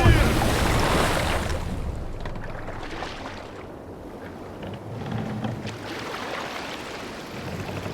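A sailing ship cutting across the sea in the video game Assassin's Creed Valhalla, with a steady rushing wash of water and wind, loudest at the start and then settling into a continuous surge.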